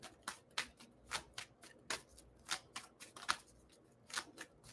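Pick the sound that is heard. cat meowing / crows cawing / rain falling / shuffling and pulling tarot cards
shuffling and pulling tarot cards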